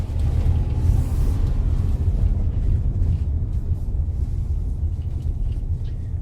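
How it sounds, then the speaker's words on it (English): A VW Amarok pickup engine rumbles low and steady while accelerating on an off-road track, with a slight rise in intensity early on, then holds a constant deep drone without any voices. "if you want to hear the sound of the engine, you can speed up"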